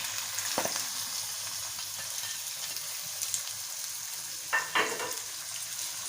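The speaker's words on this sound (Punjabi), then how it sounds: "ਕੀਮਾ ਹੈ ਸਾਡੇ ਕੋਲ ਜਿਹਨੂੰ ਅਸੀਂ ਫਰਾਈ ਕਰਨਾ ਹੈ।" Minced keema and chopped onions frying in a pan, a faint steady sizzle with two brief louder stirring scrapes, no talking.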